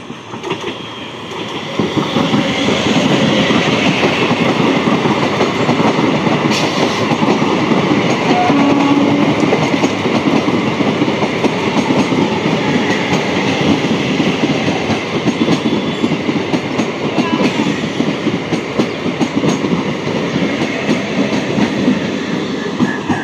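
The Sealdah–Godda MEMU passenger train 03111 rolls past close by, a loud, continuous rumble and rhythmic wheel clatter sustained for the whole stretch.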